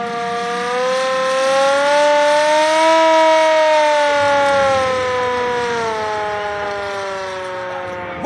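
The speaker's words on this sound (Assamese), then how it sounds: "চাইৰেন বাজিছে" Civil defence war siren sounding during a mock drill at Kahilipara, a loud, close, sustained wail that slowly rises and falls in pitch over several seconds and plays alone without talk.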